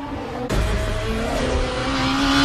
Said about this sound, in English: the whine of the engine as you shift gears